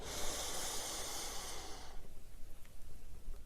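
A long, deep exhale rushes out loudly and close for about two seconds during an acupressure neck-press exercise, then fades to quiet, softer breathing.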